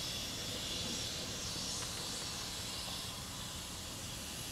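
Steady, fairly faint hissing from a Grand Canyon Railway steam locomotive burning vegetable oil as fuel, an even wash of steam noise lasting the whole stretch.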